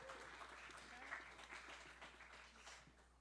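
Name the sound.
applause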